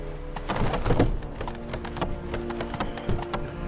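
Hooves of the horse Roach galloping in the video game The Witcher 3, a quick irregular run of clopping hoofbeats with a snort or whinny near the start and no talking.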